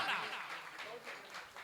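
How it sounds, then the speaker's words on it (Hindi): Applause from the audience at a Jain ceremony: a brief burst of clapping that fades off quickly, fairly faint and distant. "एक बार जोरदार तालियां"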